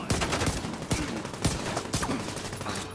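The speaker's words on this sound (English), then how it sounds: "Precision airstrike." Precision airstrike explosions go off in a video game as a rapid series of sharp, loud blasts, about four distinct hits within a few seconds over a rumbling background.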